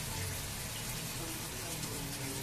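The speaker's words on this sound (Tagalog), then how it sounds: "dun ako maglalagay ng tubig." Water is poured from a tap into an emptied sardine can to rinse out the leftover sauce, giving a continuous splashing gush that runs close and steady throughout.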